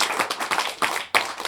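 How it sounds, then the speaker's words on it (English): Audience at an indie band show at Bop Shop Records in Rochester claps for the crew, a few people's separate claps pattering irregularly at moderate volume with no talk. "Can I also get a round of applause for my awesome crew"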